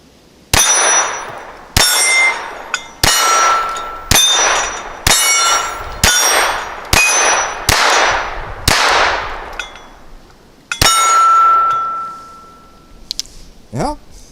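A Ruger LCP II .22 pistol fires around nine sharp, loud shots at uneven intervals, each a bright crack with metallic ringing as the action cycles, followed by a clatter at the end.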